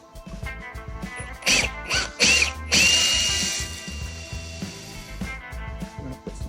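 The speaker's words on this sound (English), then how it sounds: "Let's get a hole drilled in the top so we can put a stick in there for the stem." A power drill bores a hole into the top of a wooden pumpkin for a stick stem, with several short close-up whirring bursts followed by one longer sustained run that fades off.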